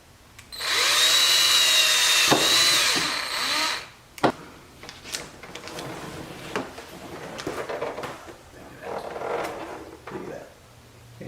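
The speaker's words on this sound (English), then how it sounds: "And we're going to drill a little hole." An electric drill whines loudly for a few seconds drilling a small hole while installing a rear diffuser on a Corvette C7, then stops, followed by scattered knocks, clicks and handling sounds.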